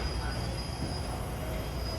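MARTA Green line train standing at King Memorial station, a steady loud rail hum and rumble with faint wheel squeal, continuous and close, with no voices.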